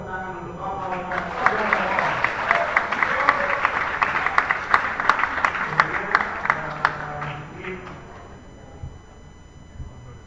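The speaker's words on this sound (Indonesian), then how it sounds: "Tepuk tangan untuk Bapak Wali Kota." Audience applause for the mayor at a National Education Day event in Bogor, a loud sustained burst of many hands clapping that swells and then tapers off over about ten seconds.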